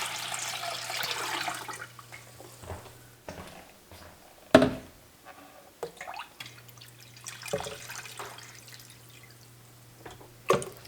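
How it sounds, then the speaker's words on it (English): Water pours and splashes into a cooking pot on a stove, filling around glass jars set on a rack. The splashing comes in irregular bursts with short pauses and a few sharp clinks, close by and moderately quiet, with no talking. "I'm going to pour water"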